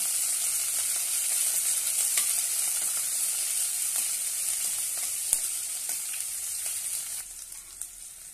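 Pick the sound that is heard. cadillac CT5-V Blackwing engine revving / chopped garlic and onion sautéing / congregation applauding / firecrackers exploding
chopped garlic and onion sautéing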